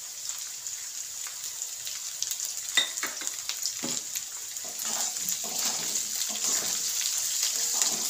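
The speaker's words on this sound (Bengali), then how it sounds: "পেঁয়াজটাকে আমি কিছুটা ভেজে নেব।" Chopped onion and green chili frying in a pan for a homemade egg chicken chowmein, a steady soft sizzle with occasional scraping stirs, close and moderately quiet.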